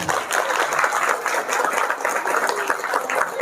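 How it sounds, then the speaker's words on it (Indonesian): An audience at an Indonesian NU anniversary gathering claps in a dense, rhythmic burst, loud and close, with no talk over the clapping. "Tepuk tangan."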